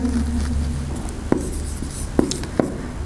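Pen writing out the first step of an algorithm on paper or a board, soft scratchy strokes with a few sharp taps, close and quiet.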